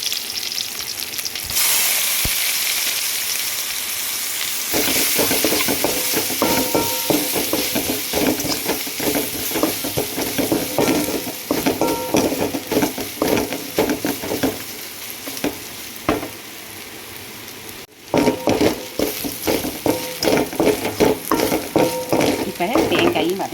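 Grated coconut and onion sautéing in a hot pan for pumpkin poriyal, a steady close sizzle broken by frequent scraping stirs of a spatula against the pan, with a brief pause midway.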